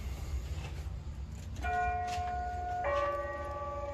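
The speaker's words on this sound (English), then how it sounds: "It's a great bell. It is the best bell." A bell at a house struck twice, each a bright ringing tone with long sustained overtones, the second strike layered over the fading first, heard at moderate distance outdoors at night.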